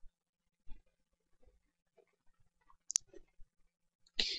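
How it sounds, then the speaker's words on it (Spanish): A single computer mouse click on a save button, a sharp near click standing out against near silence, followed by a few faint ticks. "Hago clic en guardar."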